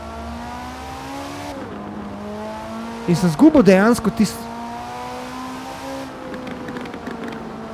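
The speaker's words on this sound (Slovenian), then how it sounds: "Pokaj za auspuhom, ampak zvok mi ni toliko všeč" An Alfa Romeo with a swapped, stronger engine revs in a driving video game, its exhaust note holding steady with a brief rising burst in the middle, heard under speech and background music.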